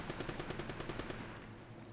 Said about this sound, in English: I just heard some gunshots.